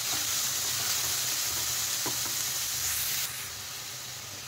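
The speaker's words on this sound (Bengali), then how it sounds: "এগুলো একটু নেড়ে চেড়ে ভালো করে মিশিয়ে নেব" Sweet corn stir-fried in a pan over a high gas flame for momo filling, a steady close sizzle with faint stirring scrapes, dropping a little near the end before a brief clatter.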